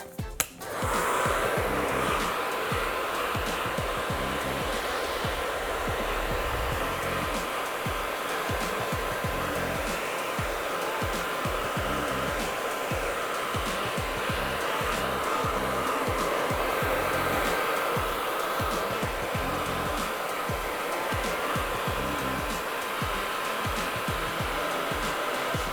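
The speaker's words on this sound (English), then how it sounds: "continue to hover diffuse to dry the roots" Hair dryer with a diffuser attachment drying the roots of curly hair, a continuous loud whooshing blow with steady motor whine throughout, close and unbroken, with faint handling rustle underneath.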